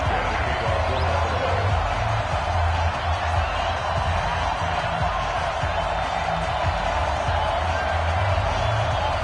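Dense, steady roar of a sold-out stadium crowd cheering in an EA Sports NFL football game, a continuous broad wash of noise with no breaks, loud and close throughout.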